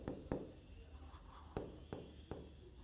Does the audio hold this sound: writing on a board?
yes